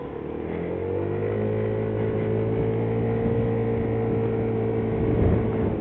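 A Yamaha Nmax 125 scooter engine drones steadily on a test ride, a smooth, continuous motor hum that holds nearly constant pitch with slight swelling, heard close and without talk.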